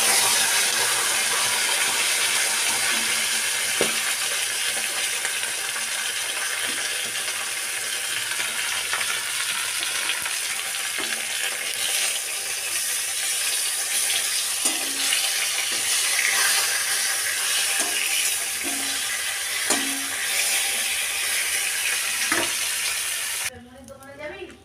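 Fish heads frying in hot oil with whole garam masala and chillies, a steady loud sizzle that holds throughout, with occasional soft clinks of a utensil and a brief drop at the end.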